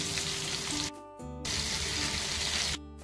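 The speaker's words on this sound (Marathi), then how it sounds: "फ्राय करून घेणार आहोत आणि त्यानंतर पुन्हा एकदा पलटी करून घेणार आहोत।" Jitada fish frying in a hot pan, a steady close sizzle broken by two short drops where the pieces are shifted or flipped, with faint tonal hum running underneath.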